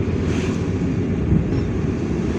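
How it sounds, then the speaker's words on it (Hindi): Cold wind blowing steadily past a moving vehicle on the road from Manigam, a broad low rumble and hiss with a gust near the middle, continuous and fairly loud with no talk. "लेकिन अच्छी हवा चल रही है, ठंडी हवा चल रही है।"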